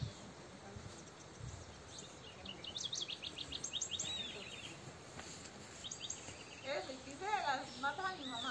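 Wild birds at a feeder give scattered high chirps and short trills, faint against a steady hiss of insects and outdoor ambience, with a louder burst of calls near the end.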